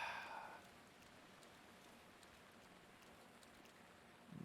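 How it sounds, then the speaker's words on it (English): Steady rain hiss from a Zelda video game fills the whole stretch, a continuous even wash of falling drops with brief louder swells at the start and end. "Rain's not letting up."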